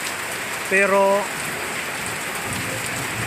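Steady rain falls with an even hiss across the whole stretch; a voice speaks briefly near the start over it.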